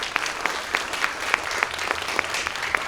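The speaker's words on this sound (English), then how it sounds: "let's have a big round of applause for all of our speakers today" Listeners at a talk on NASA's Mars mission give the speakers a round of applause, a steady bed of crowd clapping with distinct nearby claps popping out at a fairly regular rhythm.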